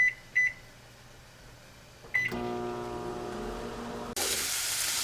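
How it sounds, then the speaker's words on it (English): Two short beeps from a keypad, then a microwave oven heating broccoli starts with a click and hums steadily, followed by a louder hiss of noise near the end. "Now we're going to put the broccoli in the microwave just to soften it up a little bit"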